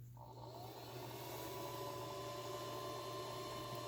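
An induction heater bolt buster heats a seized bolt on a 1993 Grand Am during alternator work, giving a steady, fairly loud electrical whir and hum that holds unbroken throughout, with no talking.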